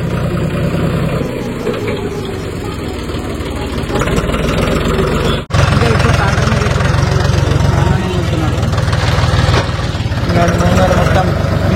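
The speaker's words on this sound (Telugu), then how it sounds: "ట్రాక్టర్ నాయిస్ రావచ్చు, మీరు కొంచెం అడ్జస్ట్ చేసుకోండి" A tractor engine works steadily while leveling soil for a new house site, a continuous mid-to-low rumbling drone that stays loud and close throughout, with a brief dip midway before resuming.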